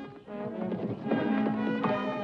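Saddled horses make close, rhythmic clip-clop hoofbeats under a dense, music-like tonal background throughout the short stretch.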